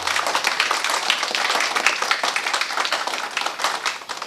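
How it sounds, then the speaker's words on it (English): An audience claps steadily at a history lecture about Hyderabad in September 1948, dense and fairly loud applause running throughout, rising and falling slightly toward the end, with no voices. "Let us give a big clap to"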